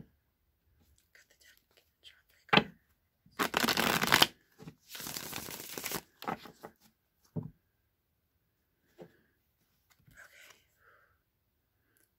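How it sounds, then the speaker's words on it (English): A Deviant Moon tarot deck is shuffled by hand in two quick riffling bursts, close and crisp, framed by scattered soft card taps and handling noises in an otherwise quiet room. "I'm going to shuffle the Deviant Moon deck now."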